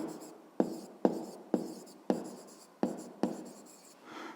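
A pen scratches across paper in a quiet room while a rectangle-division answer is written out for a fifth-grade maths exercise, with six distinct stroke onsets each trailing off into soft scraping, close and clear with no talk.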